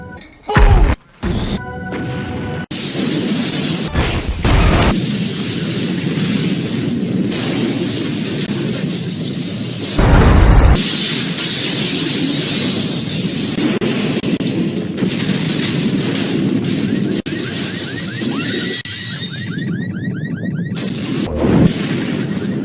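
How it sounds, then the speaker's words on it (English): A truck bomb packed in a rental van detonates in a parking garage beneath the World Trade Center, heard as loud booming blasts and crashes with rumbling debris, set against a dense, continuous roar of dramatic sound. "The rental van detonates with a force equivalent to 800 pounds of TNT, tearing through 11-inch concrete floors"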